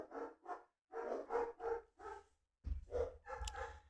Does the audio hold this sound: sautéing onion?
no